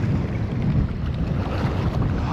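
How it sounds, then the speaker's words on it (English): Wind buffets a microphone outdoors on a fishing trip near water, a loud, continuous low roar with gusty swells and no speech. "This wind is terrible."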